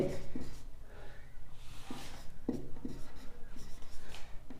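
Marker or chalk scratching out an equation on a board, a few short strokes and taps coming in quick uneven bursts, fairly faint and close.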